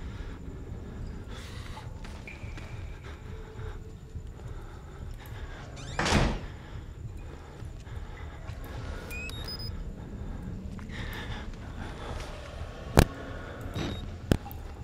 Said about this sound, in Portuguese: Ele deve ter escutado o barulho da porta.